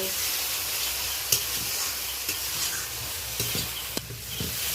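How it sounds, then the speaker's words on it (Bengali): Spice paste fries in oil for a Bengali prawn malai curry, a steady low sizzle with occasional soft stirring scrapes and clicks in the pan, close and continuous, with no talk. "এই দেখুন কষানো মশলা থেকে বেশ তেল রিলিজ করতে শুরু করেছে। আরও ভালো করে 2 মিনিট কষিয়ে নেব।"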